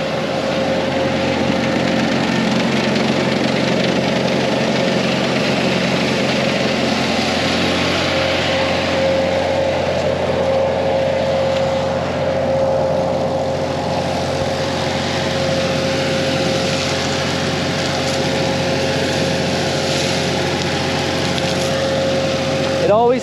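A jaw crusher with big oscillating flywheels crushes field stones into gravel, fed by a small conveyor; a steady, loud mechanical drone with a constant engine hum and grinding rumble runs throughout, no voices heard.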